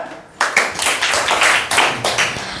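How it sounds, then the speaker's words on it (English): A small group of people clapping in a classroom setting, irregular sharp hand claps in quick bursts, close and fairly loud, with no voices. "Let's clap."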